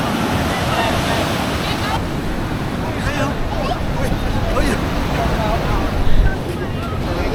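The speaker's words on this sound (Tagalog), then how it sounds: "Ang lakas ng alon, no?" Strong surf rolls in at Urbiztondo Beach in San Juan, La Union, a dense, steady roar of breaking waves mixed with wind buffeting the microphone, loud and continuous throughout.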